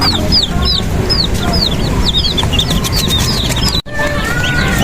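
Young chicks, part of a flock of about thirty hatched turkey, chicken and duck chicks, chirp in rapid repeated peeps over a steady noisy background, with a brief dropout near the end.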